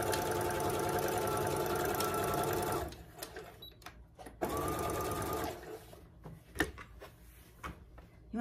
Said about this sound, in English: And I'm gonna sew to that X.